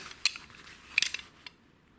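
An old 9-inch metal hook wrench is picked up and handled, giving a few light, scattered metallic clinks and taps close by, with quiet gaps between them and no talking.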